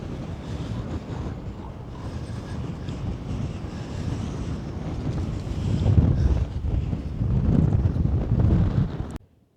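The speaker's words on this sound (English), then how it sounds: "It's getting pretty windy up here." Strong wind roars across the exposed summit of Mount Leinster, a loud, continuous buffeting of the microphone that swells louder toward the end before cutting off abruptly.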